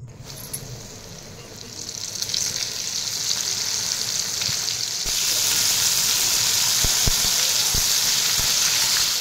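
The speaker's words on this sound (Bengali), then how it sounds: "বাকি মাছগুলো ঠিক একইভাবে ময়দার মিশ্রণটাতে কোট করে আমি ভেজে নেব।" Flour-coated lote fish fry in hot oil with a continuous loud sizzle that swells as more pieces go in, close up, with a few sharp clicks of a utensil against the pan.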